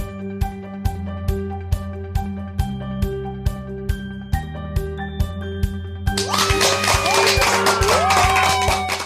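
A studio audience claps in time on a talk-show set, sharp regular claps over musical tones, then swells into a dense burst of applause and cheering near the end.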